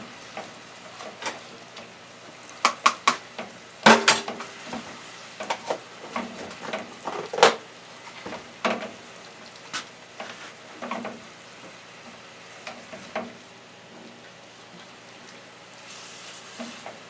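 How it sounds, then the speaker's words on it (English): Ground beef sizzling steadily in a pan while a utensil chops and scrapes it apart, sharp clacks and scrapes recurring over continuous frying hiss at close range. "So you're going to just chop up the meat like that. And let it break up."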